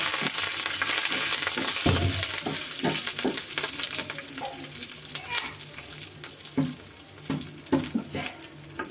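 Curry leaves sizzle and crackle in hot oil in a pan while a coriander tomato chutney is being made, with sharp spitting pops and stirring clatter close by and no talking.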